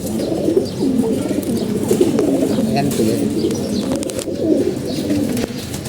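A pair of army pigeons coo repeatedly close by, with soft wing flaps and faint chirps in the background.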